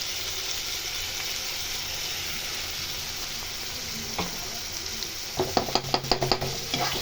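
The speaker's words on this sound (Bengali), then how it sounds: "আমি এটা যতক্ষণ তেল না ছাড়ছে ততক্ষণ আমি ভেজে নেব এভাবে নাড়তে নাড়তে" Okra coated in poppy seed spice paste fries steadily in hot oil, a soft continuous sizzle near the end broken by a run of sharp scraping stirs.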